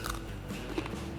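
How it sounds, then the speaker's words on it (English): Crispy nachos being bitten into: a short, close crunch with crackling texture lasting about a second over a dense, noisy background. "And here's our nice and crispy nachos."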